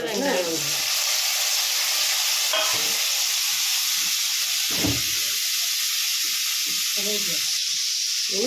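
Steady, loud sizzling and crackling of mustard seeds and onion frying in hot oil, with a voice talking faintly beneath it and occasional stirring sounds.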